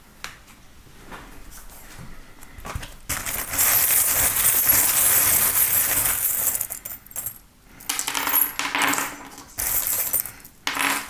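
Tarot reading charms tumble and scatter onto a table in several bursts of small metallic clinks and rattles, with short quiet pauses between the throws and no talking.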